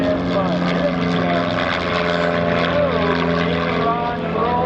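A propeller aerobatic airplane rolls at the 2024 New Garden Airshow, its engine a loud, steady drone that swells and sags slightly through the maneuver, with a voice talking underneath.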